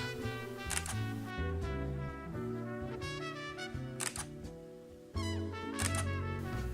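Several sharp mechanical shutter clicks from a Fujifilm X-T30 mirrorless camera fire in quick bursts, crisp and close, with a mechanical whir between shots and background music underneath.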